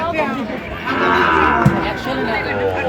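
Sahiwal bull calves moo loudly and repeatedly at a cattle market in Dhaka, long drawn-out calls close by with faint crowd chatter behind.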